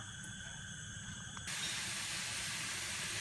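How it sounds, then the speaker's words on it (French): Lardons hitting a hot pan to render their fat: after a soft steady tone, a loud, broad sizzle bursts in and holds, close and without talk. "Je vais mettre en premier mes lardons. Voilà. Que je vais faire dégraisser."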